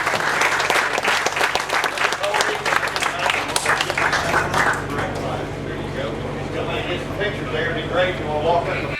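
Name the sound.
applause for duck calling contest winners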